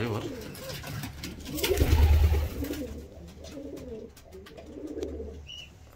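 Young tumbler pigeons coo softly in a loft, with low throaty coos that swell briefly and fade, accompanied by faint background chatter and rustling.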